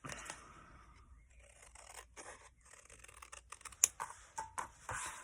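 Paper card piece for a daisy card being cut out by hand with scissors, soft snips and crinkly paper rustles, close and quiet, growing a bit busier toward the end.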